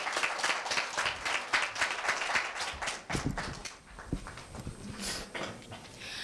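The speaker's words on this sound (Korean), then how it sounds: "힘찬 박수로 맞이해 주시기 바랍니다." Audience applause at a Korean middle school speech festival welcoming a student speaker, a steady dense clapping that fades out partway through.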